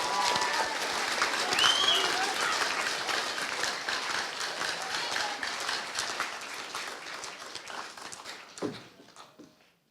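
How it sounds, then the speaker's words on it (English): A school senior prizegiving audience applauds the head students in a dense, steady burst of clapping that gradually thins out and fades toward the end, with a faint cheer or whistle early on. "How about a round of applause"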